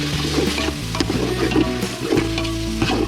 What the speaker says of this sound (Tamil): இப்போது கொடுக்காப்புளிக்காயை போட்டு நல்லா பிரட்டிக்கலாம்